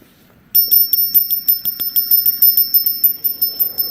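An electric scooter's alarm sounds loud and close as a rapid series of sharp, high-pitched electronic beeps, repeating in a fast even rhythm after a short quiet start.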